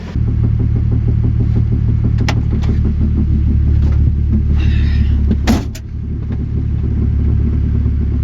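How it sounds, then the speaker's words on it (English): A turbo Nissan 240SX engine rumbles steadily up close while a loose exhaust, held by only one hanger, clanks and knocks underneath, one louder bang near the end. "You can hear it clanging. That's because I only have one exhaust hanger in"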